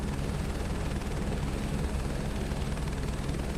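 A helicopter in Microsoft Flight Simulator 2024 drones with a steady, dense rotor-and-engine rumble, loud and unbroken for the whole stretch, with no voices over it.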